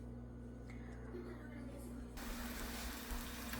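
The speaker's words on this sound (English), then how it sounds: "So see, they are frying there." Sopes fry in hot oil with a soft, low crackling sizzle that suddenly swells into a louder, denser hiss partway through.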